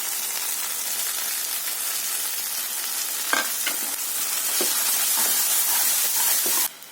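Ground horse gram paste fries in a pan with turmeric and dal, a loud, steady close sizzle and hiss with scattered scraping stirs, continuous throughout and cutting off abruptly near the end.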